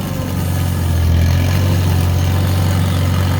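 Quad ATV engine running steadily at close range, heading out across whitetail hunting land in Gladwin, Michigan, with a loud, constant low rumble and a slight rise in pitch as it moves into a higher gear.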